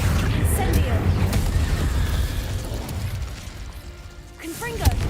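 A Confringo blasting curse from a Harry Potter video game produces a loud, rumbling, crackling explosion that fades gradually, followed by a sharp bang near the end.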